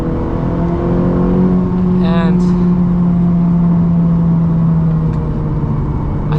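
Ferrari F430 engine induction noise heard from the cabin while driving: a steady, loud, droning engine tone with strong harmonics that holds even throughout, with someone speaking briefly over it.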